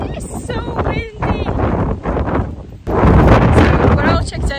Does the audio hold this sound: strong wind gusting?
yes